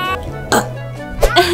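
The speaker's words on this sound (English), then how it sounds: "I guess all you needed was to burp." A baby burps twice, a short burst followed by another about three-quarters of a second later, loud and close against a steady background hum.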